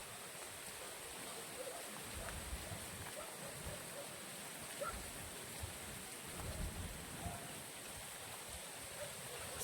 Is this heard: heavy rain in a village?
yes